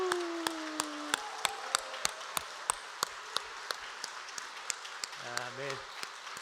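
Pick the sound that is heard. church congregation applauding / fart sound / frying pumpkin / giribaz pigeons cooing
church congregation applauding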